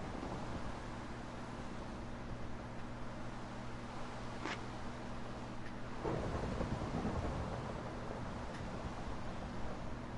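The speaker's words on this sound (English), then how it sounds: "I can still hear the lightning." Thunder rolls during a thunderstorm, a deep rumble swelling in about two-thirds of the way through, with a steady, faint background hum and noise throughout.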